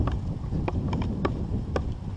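A marker pole taps against a stony lake bottom while carp fishing, giving a few faint, sharp knocks spaced irregularly under steady wind noise.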